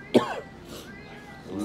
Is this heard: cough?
yes